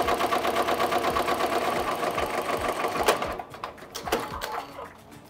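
Embroidery machine stitching a cutwork napkin, joining front and back layers: rapid, even mechanical chatter close by that slows and breaks into a few separate clacks near the end.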